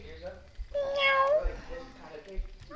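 A person voices a drawn-out imitation meow, one clear rising and falling cat-like call at close range, with brief vocal noises around it.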